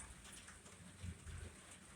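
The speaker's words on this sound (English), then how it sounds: "Rain's really starting to come down now." Faint rain comes down as a continuous, diffuse patter, quiet and distant, with a slight low swell partway through and nobody speaking.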